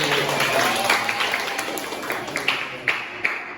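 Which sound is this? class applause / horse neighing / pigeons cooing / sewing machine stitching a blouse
class applause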